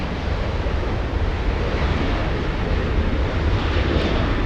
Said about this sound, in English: good looking 787 Dreamliner. A south side takeoff, flying to Toronto